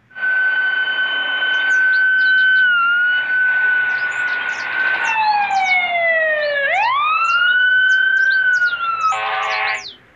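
A loud electronic toy fire truck siren wails continuously, sliding between pitches and switching patterns, with a brief buzzy burst near the end; no voices.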